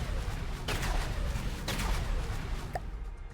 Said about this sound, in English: But this cannon is fucking beautiful.